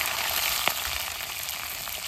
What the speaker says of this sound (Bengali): এখন ফার্স্টে জিরে দেবো, তেজপাতা দিয়ে দেবো, শুকনো ঝাল দিয়ে দেবো, পেঁয়াজ কুচি দিয়ে দেবো